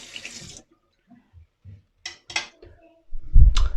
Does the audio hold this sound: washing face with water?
yes